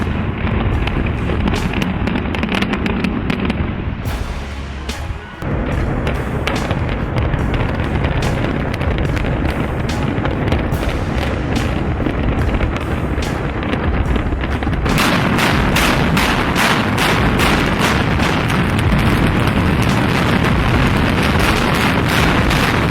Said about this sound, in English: boom goes the dynamite.